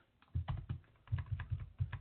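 Keys clatter on a computer keyboard in a quick, uneven run of close, crisp taps over about two seconds, alone with no talking.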